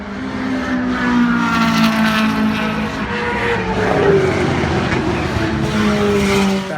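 A Honda race car fitted with fresh Alcon big brake kit pads and rotors driving on a test run, engine note rising and falling loudly and continuously with shifting tones, no talk.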